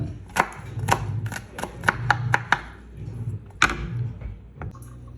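Knife chopping onion on a board in a home kitchen: about a dozen sharp, irregular taps in quick bursts, close and clear, with no talk over them.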